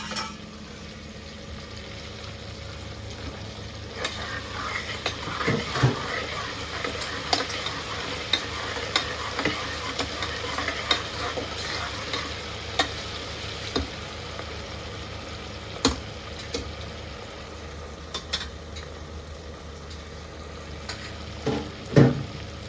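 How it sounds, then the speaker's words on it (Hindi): Onions and tomatoes fry in a pan while a utensil stirs them, a continuous sizzle broken by repeated scraping and clacking strokes at an irregular pace, close and fairly clear. "तो जी हो रही है उधर प्याज और टमाटर की भुनाई"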